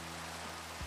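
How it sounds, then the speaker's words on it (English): Steady rain falls in the Minecraft video game, a continuous soft hiss of raindrops under a low hum, with a brief low thump at the very end. "This rain is so peaceful."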